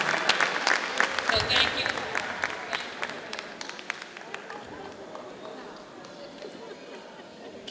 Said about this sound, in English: Can we give them another round of applause, everybody?